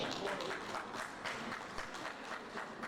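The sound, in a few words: audience clapping at pharmaceutical society speech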